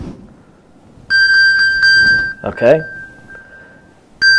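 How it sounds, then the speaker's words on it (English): A phone's remote locate alarm, a loud, bright electronic ringing with pulsing tones that starts abruptly, runs for a few seconds while someone speaks briefly over it, then cuts off and restarts. "it's got the alarm that'll go off"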